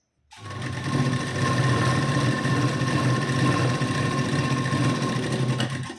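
A sewing machine runs steadily for several seconds, stitching a half-inch seam along the waistband of a katori blouse. The motor gives a close, continuous whirring hum with no talk over it.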